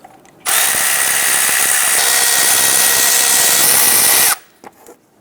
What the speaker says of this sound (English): Now we can remove the 3 bolts.